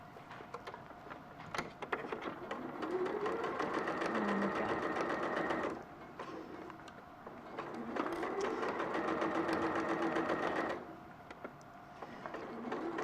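A sewing machine stitches fabric in two long sustained runs of steady whirring, with a short pause between them and another brief start at the end, close and clear with no talk.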